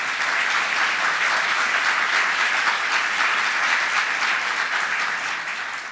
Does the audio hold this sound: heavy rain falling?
no